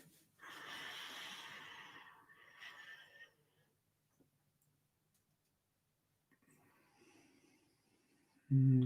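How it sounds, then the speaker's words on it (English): A long, audible breath during yoga breathwork, close and soft, followed by a quiet pause, faint breathing, and a louder thump at the end. "Take a little catch breath here."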